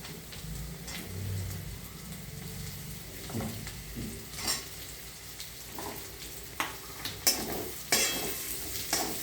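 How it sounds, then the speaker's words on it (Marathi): Ridge gourd and onions sauté in oil in a pan, a soft sizzle under repeated spatula scrapes and stirring knocks that grow sharper toward the end, with no voices. "आता हे छान परतून घ्यायचं। कांदा परतून झालेला आहे, आता हे दोडके त्यात सोडून घ्यायचे।"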